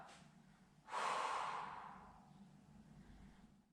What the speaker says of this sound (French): on reste 5 grandes respirations en bas